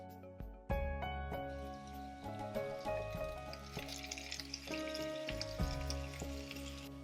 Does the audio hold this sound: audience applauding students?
no